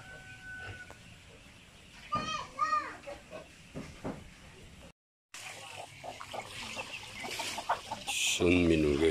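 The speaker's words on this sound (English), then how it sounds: "Rooster over there." A rooster crows on a small farm among hens, a couple of rising calls in the first half over clucking and outdoor background, with a person talking nearby.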